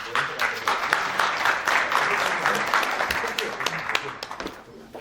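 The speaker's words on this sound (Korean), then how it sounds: "여러분 큰 박수 부탁드립니다." An audience at a 2025 M&A forum applauds with sustained, dense clapping from many hands that holds steady, then gradually tapers off.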